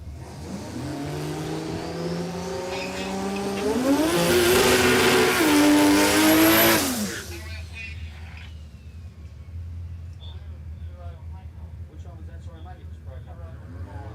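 A Mazda RX-8 drag car launches at a no-prep drag race at Warwick Dragway, its engine roaring loud and climbing through the gears for about seven seconds before fading down the strip, with an announcer talking over it.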